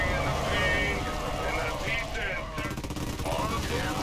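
StarCraft custom-map battle noise with bursts of rapid gunfire over rumbling vehicle sounds, busy and mid-level, with brief tonal chirps mixed in.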